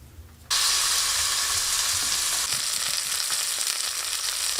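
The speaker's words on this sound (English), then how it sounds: "That meat's going to sear for about, 3 to 4 minutes on each side, get it nice and crispy" Meat seasoned with salt, pepper, oregano, dried rosemary and tarragon hits a hot pan, bursting abruptly into a loud, dense, continuous searing hiss that stays close and steady, with no voices.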